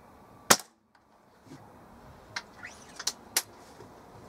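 A Weihrauch HW 97 spring air rifle with a replaced spring fires outdoors in cold weather: one sharp, loud crack near the start, followed by several fainter, shorter clicks and taps.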